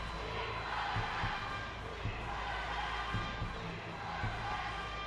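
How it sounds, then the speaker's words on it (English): Arena crowd at a 2012 London Paralympic men's team foil wheelchair fencing bronze match, a steady broad roar of cheering spectators with periodic sharp thumps and clacks, held at an even loudness across the whole stretch. "So the crowd now starting to get behind their teams."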